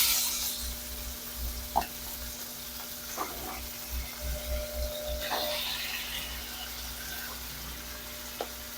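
Chicken goes into a hot pan and fries with a faint, steady sizzle, broken by a few soft clinks and stirring knocks, with low background hum and light room noise.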